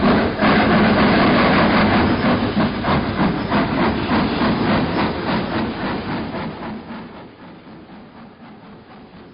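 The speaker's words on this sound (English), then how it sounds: "A trip to the seaside on an old steam train, the stuff of dreams." An old steam train on a trip to the seaside gives loud, steady rhythmic chuffing over a broad hiss of steam, keeping a regular beat and easing slightly quieter toward the end.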